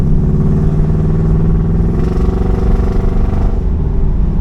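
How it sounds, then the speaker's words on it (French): A Pontiac Firebird Trans Am engine with a non-original McFly Concept exhaust rumbles loud, deep and steady close by, its throaty exhaust burbling with a slight rise in revs near the end. "le son du moteur, c'est un truc de malade"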